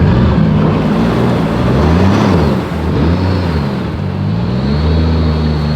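A jet boat runs up onto a roller trailer, its engine note loud and steady with revving harmonics that rise and fall as it drives on, close by and alone with no talking.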